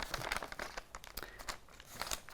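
Freezer paper is folded along its creases by hand, giving close, irregular crinkles and crisp rustling bursts that come and go, with no talk.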